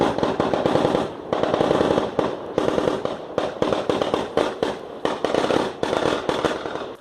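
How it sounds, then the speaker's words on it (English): Gunfire rings out in a community in Ambazonia during an ongoing armed conflict, with rapid, dense cracks and bursts, some in quick automatic runs, that go on almost without break through the whole stretch, loud and harsh. "Audio of gunshots ringing out in one community in Ambazonia where the war continues"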